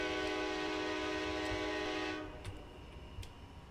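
A GE P42DC diesel locomotive horn in Train Simulator 2021 blares a sustained, layered chord for about two seconds, then cuts off, leaving rumbling engine and rail noise with a couple of faint clicks.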